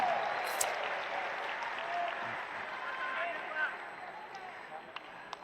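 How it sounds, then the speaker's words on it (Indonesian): Applause from the audience at an Indonesian political volunteers' gathering, a steady wash of clapping lasting the whole stretch at moderate distance, with a few sharper claps standing out near the end. "Boleh tepuk tangan buat semua yang hadir di sini."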